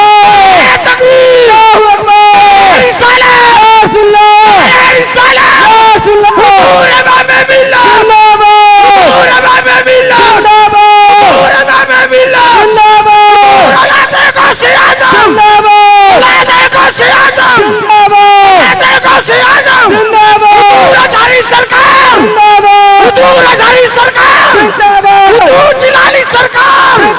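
A large crowd at a religious gathering chants a slogan in unison, loud repeated rhythmic shouts answering a lead voice amplified through a sound system, filling the space for the whole stretch.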